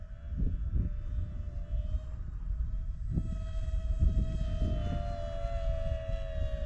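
DEERC FX9672 Dark Star RC airplane flying overhead, a steady high electric motor whine with shifting pitch, fairly loud and continuous, with low wind rumble and occasional thumps underneath.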